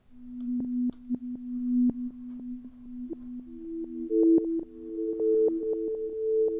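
A reverse pitch echo effect built from Ableton stock devices: sustained sine-like tones that step upward in pitch, repeating echoes layered over clicky rhythmic hits, clean and prominent with no voices.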